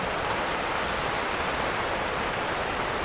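Heavy rain pours at night onto a tarpaulin, a dense, constant hiss of drops that stays loud and even throughout without any talk.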